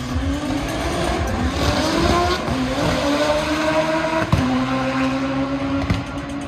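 A right-hand-drive Mazda RX-7 at an import car face-off event, its engine droning steadily with shifting pitch among other cars, loud and continuous, with a sharp knock near the end.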